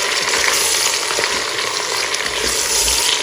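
Chicken pieces brown with onions in a Cookeo multicooker for Tunisian red rice, giving a constant close sizzle with light stirring scrapes and low bumps, no voices.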